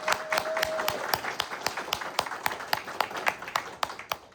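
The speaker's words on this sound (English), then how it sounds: "Let's give them a round of applause." An audience applauds a panel at an evening event, a dense spread of claps with a few sharper individual claps standing out, steady and moderately loud throughout.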